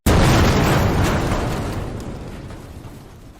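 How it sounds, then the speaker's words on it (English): Explosion sound effect in a beer commercial: one sudden, powerful boom with a rumbling roar that decays slowly over three seconds, loud and alone. "Epic explosion to logo."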